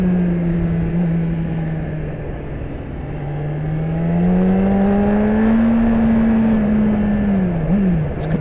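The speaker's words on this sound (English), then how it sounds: "The bike sounds awesome through that enclosed stuff there, by the way." A BMW S1000RR motorcycle with its stock exhaust, a steady loud engine drone that slowly climbs in pitch as the bike accelerates along a backroad, then dips briefly near the end, with no talking.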